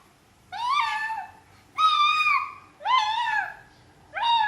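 A voice imitates a cat, giving four drawn-out meows, loud and close, each rising then falling, with short pauses between them.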